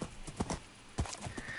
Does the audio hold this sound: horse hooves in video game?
yes